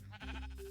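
A single close bleat from a Minecraft sheep, short and wavering, standing alone without talk.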